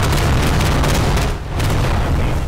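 A rocket blast in the World War II shooter Day of Infamy during a Dunkirk invasion battle, a loud, dense, booming roar that dips briefly midway and then continues amid ongoing gunfire.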